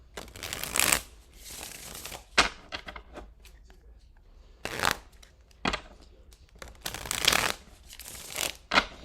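Tarot cards are shuffled in several quick riffling bursts with pauses between, close up, along with soft handling noises.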